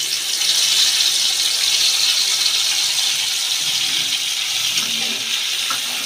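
Spice paste hitting hot oil in a pan while cooking potato dum, giving a loud, steady hiss and sizzle that holds for several seconds without talk.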